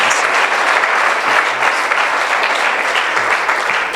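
A church congregation at a communion service bursts into loud, dense applause that holds steady and sustained throughout, a thick wash of many hands clapping at once.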